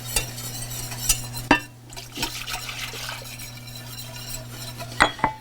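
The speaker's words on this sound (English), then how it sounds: "You just whisk this constantly." Turkey gravy is whisked in a pot, quick metallic whisk strokes scraping and clinking near at hand over a constant low electrical hum, with liquid sloshing in between.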